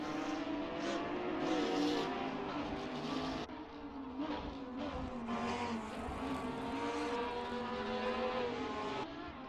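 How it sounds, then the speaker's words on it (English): Porsche and Lamborghini Huracán race cars roar around Imola circuit in Assetto Corsa, engines droning loudly and continuously with shifting pitch as they come down the hill in fifth gear, one brief gear-change dip midway. "Both of the Porsche trying to run down the Hurricane Lamborghini."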